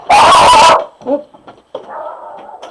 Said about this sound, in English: Obviously my dog heard a noise outside.